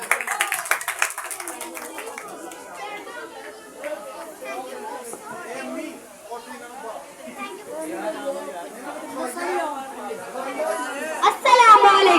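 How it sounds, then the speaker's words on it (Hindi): Audience at a children's Independence Day program applauds as a girl is invited to the stage, scattered clapping mixed with steady crowd chatter, swelling louder near the end. "आमना के लिए जोरदार तालियां हो जाए"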